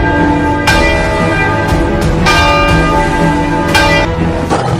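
Temple bells ring loudly and continuously, with repeated metallic strikes layered over a dense, sustained ringing that fills the whole stretch.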